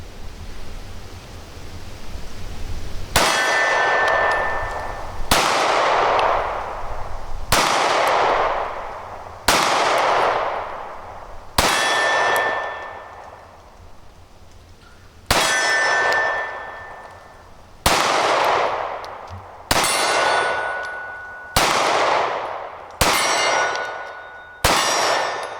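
Springfield Hellcat 9mm micro pistol fired with Blazer ammunition at steel targets, about ten loud, evenly spaced shots. Each shot is followed by a bright metallic clang from the steel that rings away.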